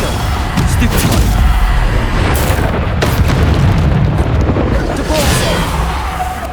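Bombarda explosion spells in the video game Hogwarts Legacy land as heavy booming blasts and rumbling bursts, loud and continuous, mixed with shouted spell names and other combat noise.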